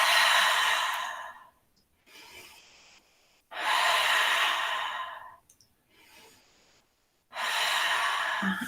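Deep yoga breathing comes through as long, airy inhales and exhales alternating in a slow steady rhythm, close up and clear with no talk.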